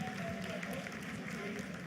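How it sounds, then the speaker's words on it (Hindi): Staff in the ISRO control room applaud during the Chandrayaan 3 moon landing. The clapping is steady and dense but faint and distant, with voices mixed in. "Lot of applause indicates that till now the performance has been nominal."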